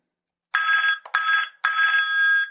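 A Cisco SPA desk phone plays a ringtone preview, loud and close, as three bright electronic ring bursts, the first two split by a brief gap, in otherwise silence.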